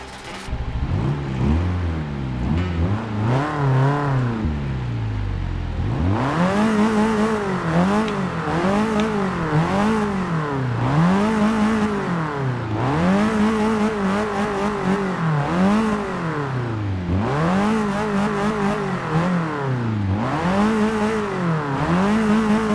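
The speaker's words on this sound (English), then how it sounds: "let's start the engine" The engine of a 1981 Ford Fiesta XR2 in Forza Motorsport 6 cranks, catches and idles, then revs up and down repeatedly in close, loud rising-and-falling blips, with no voices over it.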